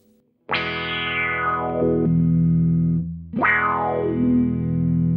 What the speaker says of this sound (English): You can hear it as the pedal decays.